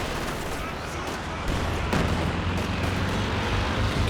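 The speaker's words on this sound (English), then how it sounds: "Katyusha coming through, targeting the HQ area" Katyusha rocket artillery barrage in Company of Heroes 2, a dense continuous roar of rolling blasts that swells louder midway and holds, with a deep rumbling low end throughout.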